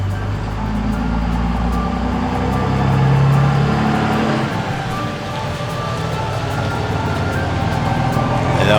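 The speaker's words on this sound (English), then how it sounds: "I gotta let this truck pass" A truck passes on a road beside the Red River in New Mexico, its engine rumble swelling to a peak near the middle and then easing off, loud and close with no talk over it.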